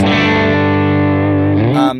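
An electric guitar runs through a TONEX V2 drive capture with a Morning Glory overdrive and compressor, giving one loud, sustained distorted chord that rings steadily for about two seconds before cutting off abruptly.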